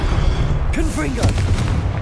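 A Confringo explosive spell goes off in Hogwarts Legacy, a deep booming blast rolling over a loud rumbling battle bed, with a brief tonal whoosh and a second thud close behind.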